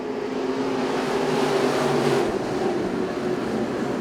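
IMCA SportMod race cars roar around a speedway on a restart, a dense, loud blend of several engines sustained throughout, swelling slightly mid-way as the pack accelerates.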